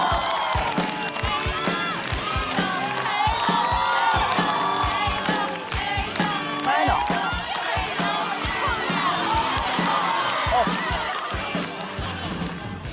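A comedy stand-up show audience claps and cheers loudly for an incoming performer, dense steady applause with whoops and shouts filling the room for the whole stretch.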